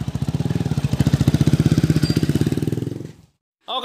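Motorcycle engine running after an overhaul, a loud, close, rapidly pulsing idle that holds steady for about three seconds, then cuts off into silence before a brief voice is heard.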